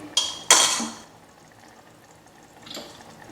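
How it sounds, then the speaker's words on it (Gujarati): Water pours into mung beans in a pressure cooker in a short splashy burst near the start, followed by quiet and a softer splash or clink near the end, close by with no talking. "હવે આપણે મગમાં મગ ડૂબે એટલું જ પાણી ઉમેરીશું"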